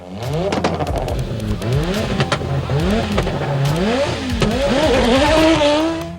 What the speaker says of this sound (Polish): I była to pięciocylindrowa jednostka, która została wskrzeszona specjalnie dla Audi TT.